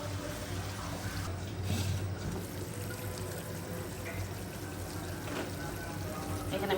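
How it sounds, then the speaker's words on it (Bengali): A little water is poured into chicken cooking in a pan, a soft continuous trickle and pour over a faint frying hiss, steady and fairly quiet. "একটু পানি দিয়ে দিব।"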